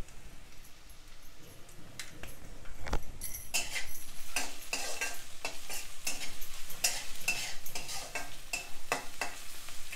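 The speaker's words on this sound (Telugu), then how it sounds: "ఇది బాగా కలుపుకొని కొంచెం ఇవన్నీ మగ్గనివ్వాలి." Stirring sounds from curry frying in a pan just after turmeric is added: steady sizzle throughout with repeated spoon scrapes and clinks against the pan, close and moderately loud, no talking.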